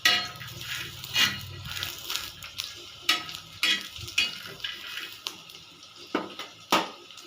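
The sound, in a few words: roasting gram dal (putnala pappu) on a hot pan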